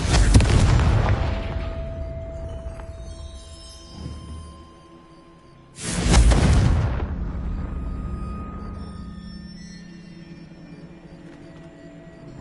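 The Confringo fire spell goes off in Hogwarts Legacy twice, each a loud deep booming explosion that rumbles and slowly fades, the second blast arriving about six seconds after the first.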